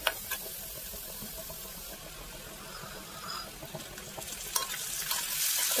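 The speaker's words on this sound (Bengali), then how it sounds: "তো টমেটোটাও এবার আমি তেলের উপরে ভালোভাবে নেড়ে চেড়ে নেব।" Fried onions and chopped tomato stirred in hot oil in a pan, a soft steady sizzle with scraping stirs and occasional sharper clicks of the spoon, rising toward the end.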